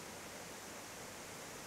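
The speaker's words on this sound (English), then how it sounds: "There's I guess you'd call them almost mini waterfalls in between each pool." Small mini waterfalls spill between the pools of a trout stream, giving a steady, even rushing wash of water that holds constant throughout with no talking.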